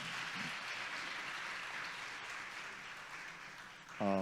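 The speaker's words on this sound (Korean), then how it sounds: "다시 한번 우리 격려의 마음으로 박수 한번 해주시겠어요?" A church congregation at a Sunday service applauds its poet in encouragement, a steady, distant wash of clapping from the whole room that holds even throughout, with a brief louder sound at the very end.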